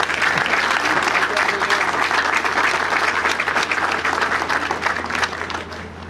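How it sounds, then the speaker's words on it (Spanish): Audience at the opening of a drum and bugle band competition applauding the event coordinator, loud dense clapping sustained for about six seconds with crowd voices blended underneath. "le vamos a dar un aplauso al Granados Rico porque..."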